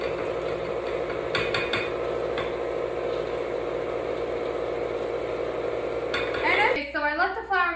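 An electric stand mixer churns sweet kaak dough with a steady motor drone and a rhythmic churning texture, broken by a few metallic clinks and scraping knocks against the bowl, all close and loud with no talking.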